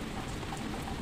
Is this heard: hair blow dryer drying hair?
no